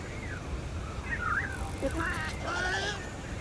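Birds call in the Scarlet Forest of the video game Monster Hunter Wilds, with a few short, warbling, honk-like cries rising over a steady bed of ambient forest noise.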